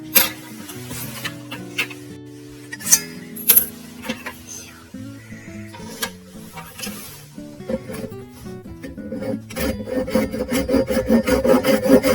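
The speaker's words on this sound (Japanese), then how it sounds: "ノコギリでカットしようと思います。" A handsaw starts with a few scattered strokes, then settles into quick, steady back-and-forth rasping through wood that grows louder toward the end, cutting a 100-yen-shop wooden spindle part.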